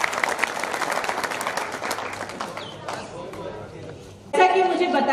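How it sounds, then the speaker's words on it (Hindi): An audience at a Hindi comedy poetry gathering (hasya kavi sammelan) breaks into loud clapping. It is dense at first, then thins out over a few seconds before a voice cuts in on the hall sound system. "एक बार जोरदार तालियां बजाकर बताइए कि आप हमको सुन रहे हैं"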